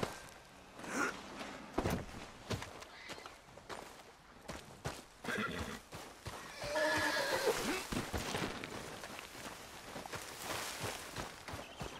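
A horse in Red Dead Redemption 2 whinnies loudly and close amid steady clip-clopping hoofbeats, with the neigh rising clearly midway through a continuous stretch of hooves.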